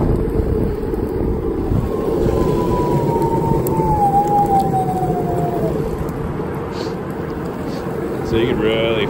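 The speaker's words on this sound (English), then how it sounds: "Here's some sounds of the regen braking." Regenerative braking from a Meepo electric skateboard hub motor, a rising then falling electric whine over heavy rolling and wind rumble while riding outdoors.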